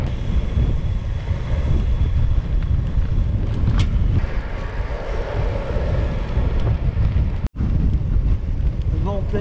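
Strong headwind roars straight into the microphone of cyclists riding an ultra-distance route in western France, a loud continuous buffeting rush with one brief dropout, with a rider's voice faintly under it.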